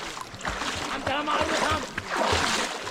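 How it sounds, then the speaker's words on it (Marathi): A small dog swimming in a river paddles steadily, with repeated splashes and sloshing water close by while people talk excitedly over it. "तो कुत्रा मस्त पोहतोय छोटा आहे बघा इथं आणलं"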